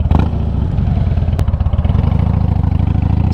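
A Harley-Davidson Fat Bob motorcycle engine idles close by with a steady, loping low rumble and rhythmic pulsing throughout, broken by one brief sharp click partway through.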